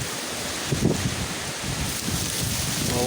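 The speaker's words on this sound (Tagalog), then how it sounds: "Malakas yung hangin mga kapobre." Strong wind roars steadily outdoors, buffeting the microphone with broadband rushing noise and occasional gusts.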